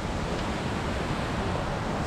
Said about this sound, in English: There's waterfalls everywhere, I swear.